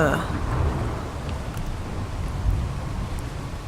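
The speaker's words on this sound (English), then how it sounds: "it kind of figures that when I'm showing off a map, I would get all the storms and all the fog" A thunderstorm on the Crystal Isles map in the Ark video game, with steady heavy rain and a low rumble of thunder filling the scene, continuous and fairly loud.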